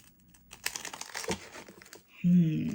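Shiny paper peeled slowly off a gelli printing plate, a soft crinkling and tearing rustle over about two seconds, followed by a brief close voice.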